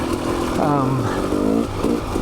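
A dirt bike engine revs up and down in rising and falling pulses on a muddy trail, close by, with a voice speaking over it.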